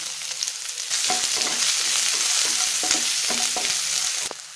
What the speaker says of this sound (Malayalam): സവാളയും ചെറിയ ഉള്ളിയും ചേർത്ത് 2-3 മിനിറ്റ് നന്നായിട്ട് വഴറ്റണം.